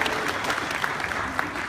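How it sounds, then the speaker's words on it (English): A crowd of theme park pass holders at Busch Gardens Williamsburg clapping, a brief, moderately quiet patter of applause with scattered sharper claps and no voices. "Give yourselves a big round of applause for being so great."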